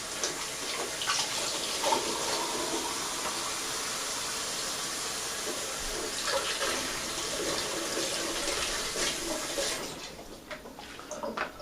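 Tap water runs steadily into a sink while a hydrometer for tropical dragon fruit wine is rinsed, a broad continuous splashing rush that stays loud and even before easing slightly near the end, with no talking.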